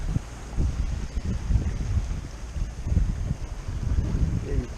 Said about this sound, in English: 15 knots of wind just strung up as soon as I got the sails going